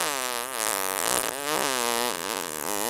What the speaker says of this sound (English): Some farts are repulsive.